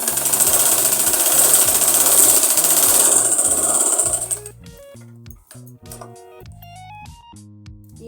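An electric sewing machine stitches the seam of an Afghani salwar with a steady, loud mechanical whir for about four seconds. It then stops abruptly, leaving quieter background music.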